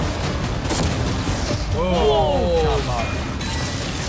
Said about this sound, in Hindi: वो कैनन्स उसे बर्बाद कर रहे हैं।